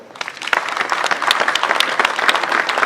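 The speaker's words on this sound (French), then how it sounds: "Cher coach Alioune, je voudrais qu'on t'applaudisse très fort" Loud, close crowd applause for the coach at a ceremony handing the flag to Senegal's national football team, brisk dense clapping swelling over a few seconds.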